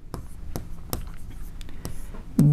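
Pen on paper while working a geometry construction: a handful of sharp scratchy strokes spaced irregularly, close and fairly quiet, with a faint voice at the very end.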